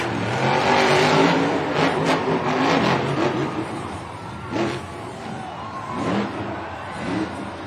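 A monster truck at a Monster Jam stadium event in Denver, engine revving loudly with surging, roaring bursts amid crowd and arena noise.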